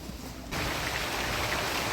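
Heavy downpour sets in after a quieter half-second, becoming a dense, even hiss of rain drumming on surfaces close by, steady and loud with no voices.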